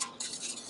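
Small metal pot supports on a 1966 Swedish Army mess kit are flipped up, giving a brief metallic scrape and a light clink, heard close and faint with no talking.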